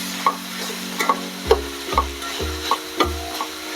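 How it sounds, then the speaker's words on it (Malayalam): Sliced onions, five of them, frying in a pan for Kerala-style beef curry are stirred with a utensil. Firm scraping strokes land about every half second over a steady close sizzle, with no talking. "അതിലൊക്കെ ഒരു 5 സവാളയും കൂടെ നമ്മൾ അരിഞ്ഞത് ചേർത്ത് കൊടുക്കുക. ഇനി നമുക്ക് നന്നായിട്ടൊന്ന് ഇളക്കി കൊടുക്കാം."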